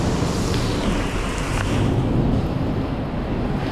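Steady rain falling on a pedestrian street in Macau, a dense continuous wash of patter and splashing at close range with no voices.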